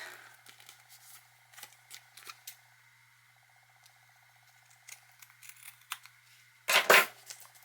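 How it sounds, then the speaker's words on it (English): Scissors snip away excess paper for a handmade mini album, giving a few soft close cuts followed by a louder sharp burst near the end, with quiet pauses between. "Just gonna trim the excess."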